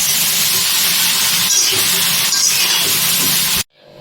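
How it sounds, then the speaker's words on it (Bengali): Broccoli florets fry in hot oil in a pan, giving a loud, steady broadband sizzle with crackling pops that runs unbroken for about three and a half seconds before cutting off abruptly to near silence. "এবার এই তেলেতেই আমরা ব্রকলিগুলো হালকা করে ভেজে নেব"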